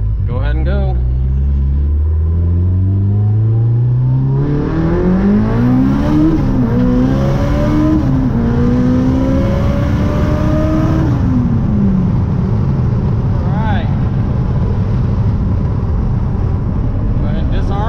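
A Fueltech-powered Evo 8 accelerates hard, its engine note climbing through several rising gear pulls with shifts between them, loud and close from inside the car before settling to a lower drone, with people talking over it.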